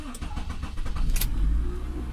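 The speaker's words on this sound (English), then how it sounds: "So try natin i-on yung ating engine" A car engine being started: a brief cranking clatter builds into a low rumbling catch as the motor fires, heard close by over a couple of seconds.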